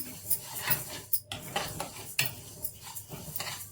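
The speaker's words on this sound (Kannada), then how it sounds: "ಈಗ ಇದನ್ನು ಚೆನ್ನಾಗಿ ಫ್ರೈ ಮಾಡ್ಕೊಳ್ಳೋಣ" Sweet ingredients fry in a pan while being stirred, producing close, loud scraping strokes of a utensil against the pan with a soft sizzle underneath, in an uneven rhythm.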